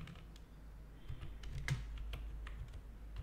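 Typing on a computer keyboard while working in a Microsoft Access 2016 database, with irregular close key clicks and a few louder taps over a low room hum, no talking.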